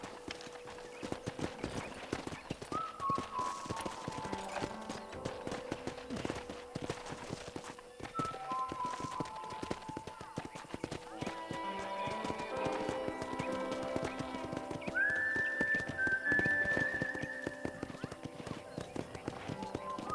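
Steady clip-clop of horse hooves with a horse's whinny in Red Dead Redemption, over game background music and a talking voice.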